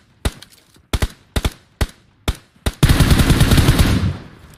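Gunfire in the mobile shooter BGMI: several short separate shots and bursts spaced about a second apart, then a sustained loud automatic burst lasting over a second before it fades out.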